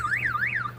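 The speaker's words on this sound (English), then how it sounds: "Car alarms sound the same no matter what country you're in" A car alarm wails in a rising and falling siren sweep, two full cycles in quick succession, loud and steady with a low hum beneath.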